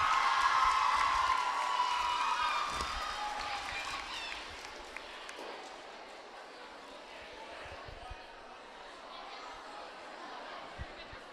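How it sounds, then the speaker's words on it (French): Crowd applause and cheering for a race podium at a school running event fade gradually from a loud burst to scattered clapping, with chatter and a voice over it. "On applaudit notre podium."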